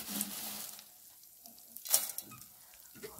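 Vermicelli browning in a pan for rice, with a soft sizzle of frying alongside scattered clinks and scrapes of stirring nearby.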